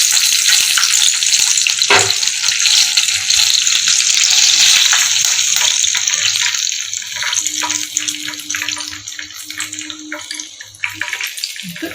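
KFC-style chicken pieces deep fry in a pot of oil, a loud continuous bubbling sizzle that eases slightly toward the end, with a few close clinks and no speech.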